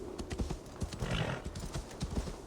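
A horse in Assassin's Creed Valhalla trots up after being whistled for, its hooves clip-clopping in a steady, fairly close rhythm with faint background sound.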